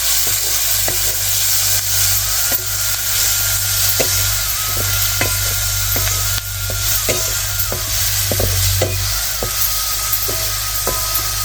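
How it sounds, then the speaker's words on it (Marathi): Ground spice paste hits a hot pan for a Maharashtrian rabodi vegetable dish, sizzling steadily while a spoon taps and scrapes the pan at irregular intervals, close and clear with no talking. "आता वाटलेलं वाटण टाकून घेते"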